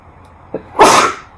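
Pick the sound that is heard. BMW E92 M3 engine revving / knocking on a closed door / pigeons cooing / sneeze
sneeze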